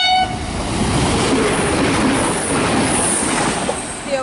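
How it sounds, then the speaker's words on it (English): A V/Line Velocity passenger train rushes through Harcourt station in Victoria at speed, a loud sustained roar of wheels and rail noise with its horn sounding high over the rush throughout. "Geez, that horn freaked me out."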